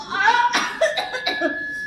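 A person coughs several times in quick, rough bursts during a stage play, close and fairly loud, mixed with strained vocal sounds.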